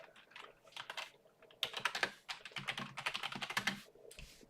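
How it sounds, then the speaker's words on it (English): Rapid clattering keystrokes on a computer keyboard, typed in uneven bursts with brief pauses, close and fairly loud with no voices. "you are seeing that I am typing this trade for you guys out"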